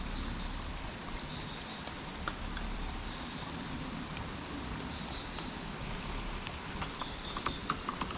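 Rain falls steadily around a fishing spot where anglers are catching lais catfish, a faint continuous hiss with scattered drop ticks and no talk.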